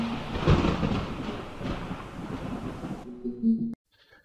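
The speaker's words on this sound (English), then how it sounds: "And the occasional lightning sound effect." A low rumbling crash like thunder, a lightning sound effect from the game Roblox, rolls for a few seconds, then cuts to a brief faint tone before silence.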